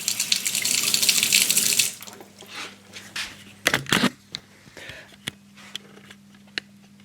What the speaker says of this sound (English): Let me give it a rinse.